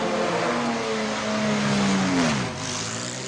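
A race car at the 1994 Le Mans 24 Hours pulls away for a night stint, its loud engine note climbing steadily through the gears before dipping briefly on a shift, heard close with no talk.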